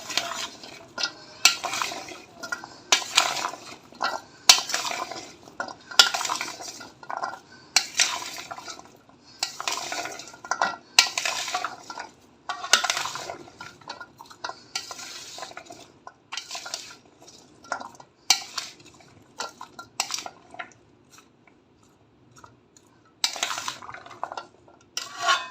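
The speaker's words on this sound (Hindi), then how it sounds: "अब इन सारी चीज़ों को अच्छे से मिक्स कर लूँगी।" A spoon stirring and mixing plum and tamarind chutney ingredients with salt and chaat masala in a bowl, repeated scraping and clinking of metal against the dish in uneven bursts, close up with brief pauses and no talk.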